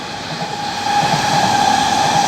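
A Shinkansen bullet train rushes past a trackside spot in Tokyo at high speed with a loud, steady roar and a sustained high whine, building slightly over two seconds.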